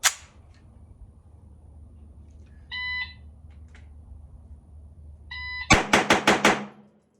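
Five rapid gunshots from a Rock Island Armory 1911 pistol crack out in a tight, loud burst near the end, preceded by a couple of short electronic beeps from a shot timer.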